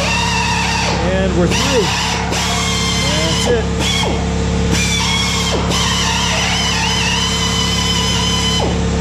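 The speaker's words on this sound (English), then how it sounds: "that's as much as this particular drill will provide" A power drill boring into metal on a trailer tongue whines steadily with a high-pitched grinding tone that rises and shifts, broken by short squeals, over a constant mechanical drone.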